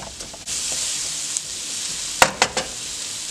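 Finely chopped tomatoes sauté in a kadai for kadai chicken, a continuous close sizzle with a few sharp spatula clacks and scrapes toward the end.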